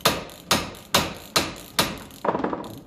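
A hammer taps a nut on a 1954 Ferguson 20 TEF diesel tractor, five sharp, evenly spaced metallic strikes close by, followed by a quicker, lighter flurry of taps.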